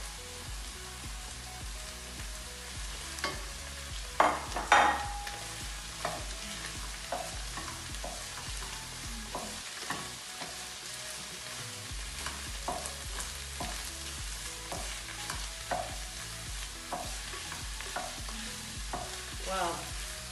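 Mushrooms frying in a pan while being stirred, giving a steady close sizzle with repeated scraping strokes and a few sharper clinks near the start, continuing with no talk.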